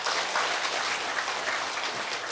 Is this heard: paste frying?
no